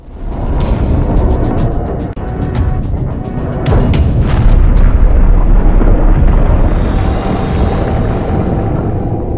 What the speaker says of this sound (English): Enjoy the explosion.